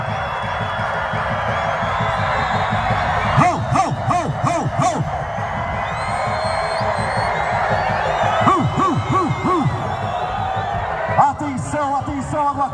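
Stadium crowd at a floodlight inauguration in Érico Cardoso, Brazil, with fans of Baraúna and Abadia teams, cheering and whooping throughout under a loud announcer's voice, with bursts of shouts rising several times.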